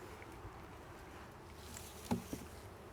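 Honeybees buzz around an opened hive during a honey harvest, a faint steady hum close by with brief louder bumps of handling near the end and no talking.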